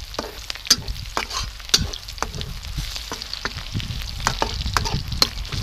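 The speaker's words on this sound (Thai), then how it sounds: "ก็ผัดถั่วงอกเลย" Bean sprouts stir-fried in a pan for old-style fried noodles, a steady close sizzle broken by frequent sharp scrapes and clacks of the spatula against the pan, with no talking.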